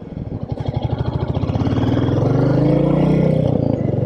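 Engine of a SuperNova Red Royal Enfield Meteor 350 motorcycle running nearby, a loud steady single-cylinder thump that quickens and rises slightly as it revs, with no talk.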